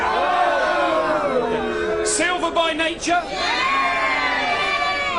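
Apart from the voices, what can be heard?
racing crowd cheering for horse names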